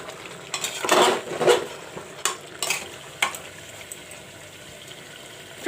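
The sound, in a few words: mutton frying with masala in pan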